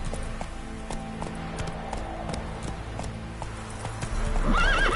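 Roach, the horse in The Witcher 3, gallops in steady clip-clopping hoofbeats with a whinny, close and clear over in-game ambience, a brighter neigh rising near the end.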